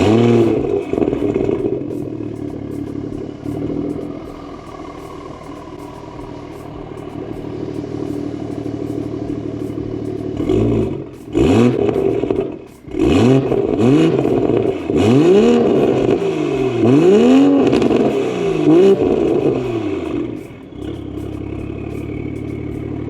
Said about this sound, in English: I'll give you guys a couple revs so you can hear how it's sounding now